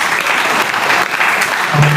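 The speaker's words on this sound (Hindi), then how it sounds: "एक बार ये शुभम के लिए फिर से जोरदार तालियां होंगी।" Loud, dense applause from a college audience at a World Ozone Day competition, honouring a student named Shubham; steady crowd clapping fills the whole two seconds.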